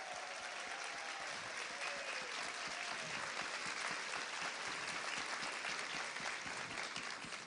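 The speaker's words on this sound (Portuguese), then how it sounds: "uma salva de palmas." An audience at a talk claps steadily, dense and even applause that continues at the same level from start to finish, with no voices over it.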